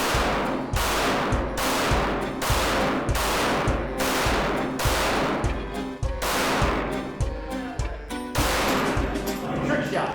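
Rapid strings of loud pistol shots from a Glock G19x during a timed shooting match, about a dozen sharp cracks in quick bursts with brief pauses between strings, close and echoing on an outdoor range.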